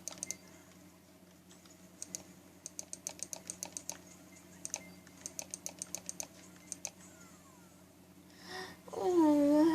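Computer keyboard keys, including the Q key, tapped in quick bursts of close, light clicks with pauses between, and a short cat-like whine near the end.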